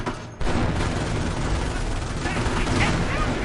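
Panzerschreck rocket fired at a tank in a World War II strategy video game, a sudden burst after a brief hush followed by dense, loud battle noise of gunfire and booms, with a commentator talking over it.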